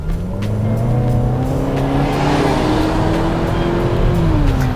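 A purple 2017 Infiniti QX30 Sport with a front-wheel-drive 2-liter turbo engine accelerates hard, its loud engine note rising steadily in pitch through a gear under faint tire noise.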